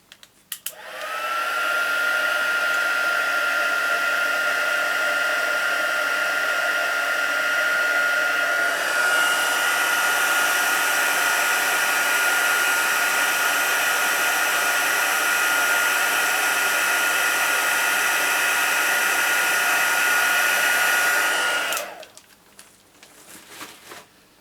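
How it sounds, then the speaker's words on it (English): A heat gun blows steadily up close while melting embossing powder on a handmade card, a continuous loud whooshing hum that shifts slightly in tone partway through, then cuts off near the end. "And if I can get my heat gun again."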